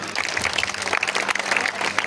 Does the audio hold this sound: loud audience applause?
yes